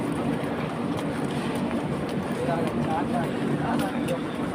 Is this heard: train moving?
yes